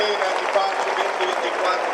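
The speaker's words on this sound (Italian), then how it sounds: "Applauso per Don Ciotti che parla di pace come malattia da cui nessuno di noi deve guarire." Sustained applause from a large crowd at Pope Francis's visit to Verona, a dense even patter of clapping that holds steady throughout.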